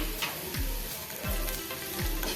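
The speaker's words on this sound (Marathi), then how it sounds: "आता ह्याच्यामध्ये आपण सिमला मिर्च घालायची आहे" Capsicum being stirred into a spiced masala frying in a pan, with a steady sizzle throughout and three distinct scraping strokes of the spoon at regular intervals, close and alone without talk.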